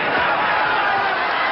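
A boxing crowd at the Pacific Coliseum rises in a loud, sustained roar of cheering during Muhammad Ali versus George Chuvalo, a dense wash of voices with no breaks.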